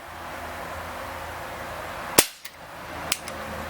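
An Umarex Beretta 90two CO2 BB pistol fires a sharp, close pop, then fainter impact clicks and a second quieter shot about a second later, over steady background noise.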